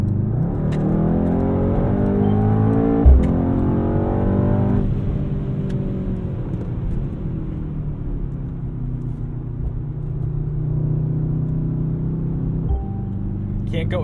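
A 630 hp Mercedes-AMG GT63 in race mode accelerates hard onto a cold, salted highway, its engine note climbing in pitch, dropping at a gear change, then settling into a loud, steady drone.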